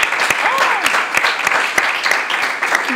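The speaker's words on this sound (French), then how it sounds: "on applaudit ça aussi quand même" Audience applause at a school quiz-show competition, a dense continuous patter of clapping with sharp individual claps standing out, while a host's voice carries over it.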